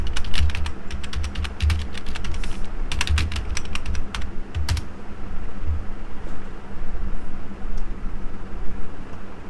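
Rapid bursts of clicking on a computer keyboard while code is typed, with dense clusters of keystrokes early on, then sparser taps over a steady background hiss.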